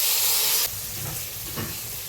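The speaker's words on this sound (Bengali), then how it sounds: "কড়াইতে তেল গরম হয়ে গেছে, এবার ম্যারিনেট করে রাখা সখী মাছটা এবার দিয়ে দিব।" Marinated sakhi fish hits hot oil in a wok and sizzles sharply, a loud hissing burst that quickly drops to a softer, crackling fry with small spurts of spatter.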